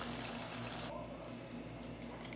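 Leftover rice-boiling water pours steadily into a biryani pot, a continuous splashing stream that thins out after the first second, with low kitchen hum underneath.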